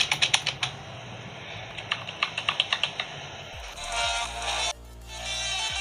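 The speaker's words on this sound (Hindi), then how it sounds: "ये कीपैड का साउंड है, देख सकते सुन सकते हैं इसका साउंड है।" Keys clatter on a Portronics full-size wired keyboard in a quick, even run of close, crisp clicks, then the typing gives way to a steady hum and a softer, smeared tail of noise.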